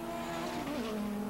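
A 1999 Battle of the Imports drag race car accelerates down the strip and shifts into second gear, its engine tone dropping after a steady high whine, heard faint and at a distance.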